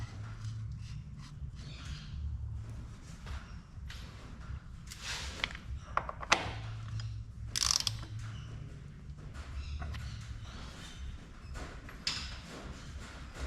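A ratchet tightens a plug on a Hilux transfer case, producing quiet, irregular clicking bursts amid soft workshop clanks and faint metallic knocks.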